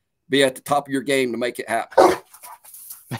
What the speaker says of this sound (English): my dogs are out here playing right now.